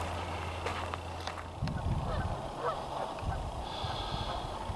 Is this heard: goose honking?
yes